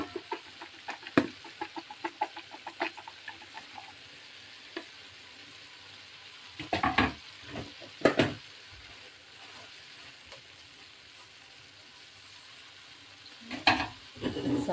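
Bean sprouts and chili stir-fried in a pan, with scattered scraping stir strokes and bursts of sizzling at intervals over a quiet background.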